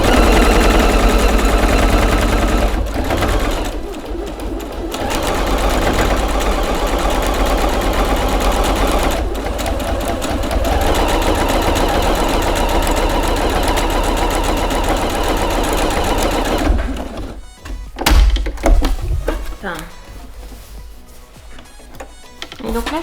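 A sewing machine runs at speed, stitching fabric padded with wadding for a homemade knitting-needle case, a loud continuous whirring rattle that pauses briefly a few times and turns choppy with short stops and starts near the end.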